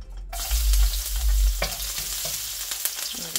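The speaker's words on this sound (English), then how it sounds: "Okay, and now we're going to be adding our garlic." Garlic sizzles steadily in a hot pan while tomato and basil pasta is cooked, with stirring scrapes and a loud opening hiss that settles into a continuous fry, no voices.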